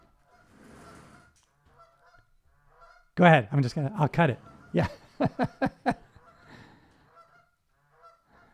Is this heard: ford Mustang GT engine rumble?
no